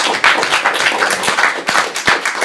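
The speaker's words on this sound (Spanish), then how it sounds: "vamos a dar un aplauso a Johan Page" A small group claps, giving a short round of applause with irregular, fairly close hand claps.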